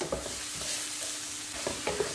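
Chopped onions with salt sauté in a pan, a soft continuous sizzle punctuated by a few light stirring scrapes.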